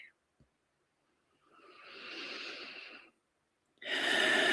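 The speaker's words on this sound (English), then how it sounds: "Soft, deep breathing" Soft, deep breathing close up: one slow, airy inhale swelling and fading, a pause, then the start of another breath, alone in near silence.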